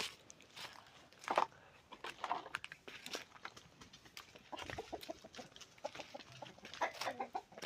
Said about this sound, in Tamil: இங்கே வந்து நெட் கட்டி விட்டு சேவலெல்லாம் வளர்க்குறாங்க